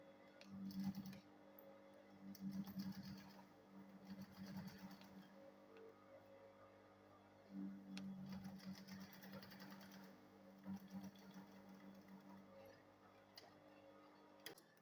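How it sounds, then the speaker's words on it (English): A sewing machine stitches a fabric school bag in close bursts of rapid ticking, starting and stopping several times with short pauses between runs, with no voices. "I'll go ahead and sew this one here."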